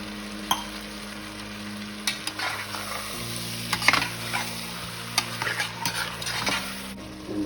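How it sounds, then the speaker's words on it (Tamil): Vegetable biryani in a pan sizzles and fries as half a cup of coconut milk goes in, with steady bubbling, stirring scrapes and light utensil clicks close by throughout. "இப்போ இந்த 1/2 கப் கோகனட் மில்க் ஆட் பண்ணிக்கிறேன்."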